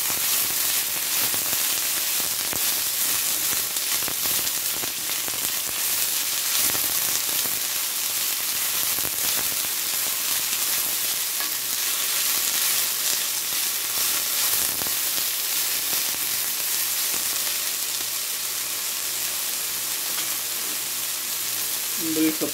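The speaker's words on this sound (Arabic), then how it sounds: "We'll fry the onion. We add the pepper, the green pepper." Onion and green pepper fry in a pan with a dense, steady sizzle that keeps up unbroken and fairly loud, with a few faint scrapes of stirring underneath.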